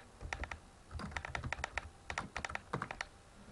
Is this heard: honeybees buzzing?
no